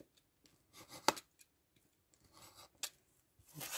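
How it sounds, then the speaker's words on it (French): Utility knife trimming excess paper flush along an edge in a craft project, giving a few quiet, brief scratchy cuts with short pauses between them, close up and with no talking. "Avec mon cutter qui est là, je viens tout simplement couper ce qui dépasse."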